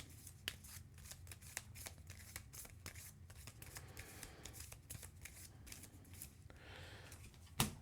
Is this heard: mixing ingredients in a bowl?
no